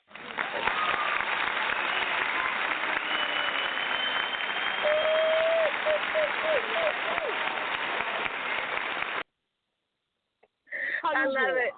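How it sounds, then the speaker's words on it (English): Applause from a small group on a radio show, a steady broadband clapping wash lasting about nine seconds, then a short silence before a voice briefly cuts in. "I got to give you your round of applause."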